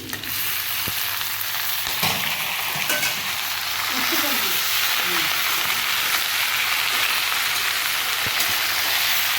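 Pui shak spinach stalks and leaves dropped into a hot pan with prawns and spices, setting off a loud, steady sizzle and crackle of frying that continues unbroken, close by.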